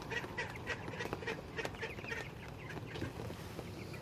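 Young chickens, two roosters and a hen, cluck and mutter softly at a distance, a faint, busy scatter of short calls running steadily throughout.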